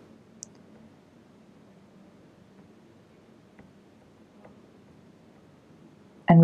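A single sharp mouse click on a button lands right at the end, loud and close, after several seconds of faint low room hum.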